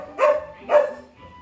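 Dogs give two sharp barks in quick succession, close by and clear, with a faint third yelp trailing off and no talk.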